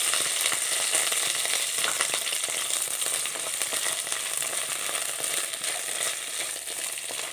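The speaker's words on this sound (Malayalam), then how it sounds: "ഈ പാനിലേക്ക് രണ്ട് ടേബിൾ സ്പൂൺ വെളിച്ചെണ്ണ ഒഴിച്ച് അത് ചൂടായി വന്നപ്പോൾ ഈ വെണ്ടയ്ക്ക മുഴുവനും ഇട്ടൊന്ന് എടുക്കാം" Okra sizzles and fries in hot coconut oil in a pan, a dense continuous crackle at close range with occasional stirring scrapes and no voices.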